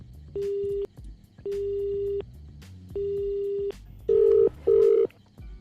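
Telephone keypad tones beep during a phone call, three long even tones followed by two shorter louder ones in quick succession, clear and close with faint background murmur.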